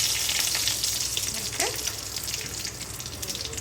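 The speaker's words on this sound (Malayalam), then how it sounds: "എണ്ണ ചൂടായി കേട്ടോ. കുറച്ച് ഉലുവ ഇട്ടു, കുറച്ച് കടുക്, പച്ചമുളകും കറിവേപ്പിലയും." Fenugreek, mustard seeds, green chilies and curry leaves hit hot oil for Kerala-style rasam, giving a steady close broadband sizzle with faint crackles, no talking.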